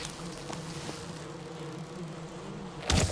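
Bees in the video game Valheim buzz in a continuous, steady drone with a faint hum underneath, ending in a brief louder burst of noise.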